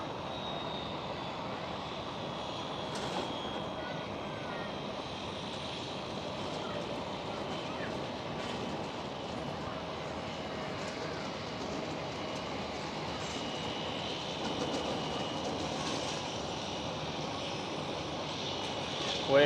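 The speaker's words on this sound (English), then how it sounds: "With the KLM Cityhopper E175 taking off." A KLM Cityhopper Embraer E175 jet takes off at Amsterdam Schiphol, a distant, low engine rumble that swells gradually toward the end, with faint voices now and then over the steady roar.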